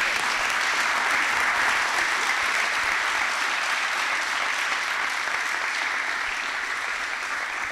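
Conference audience at a Python developer event applauding a talk, dense steady clapping that carries on evenly throughout.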